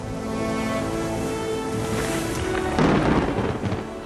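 A thunderstorm rumbles steadily with a dense wash of rain and wind, swelling into a louder, rougher burst of thunder near the end.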